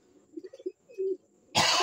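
Inside a pigeon loft, faint pigeon cooing and soft murmurs are cut off near the end by a single loud, close cough from a man.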